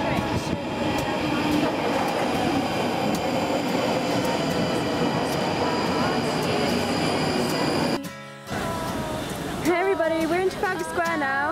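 London Underground tube train at a station platform, a loud rumbling roar with metallic screeching for several seconds, then a sudden drop and rising whine as the train moves off, with voices nearby.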